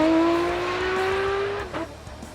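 A Nissan R34 GTR race car tuned by Just Engine Management on a standing half-mile run, its loud engine note holding steady and then cutting out abruptly, with a low rumble left behind.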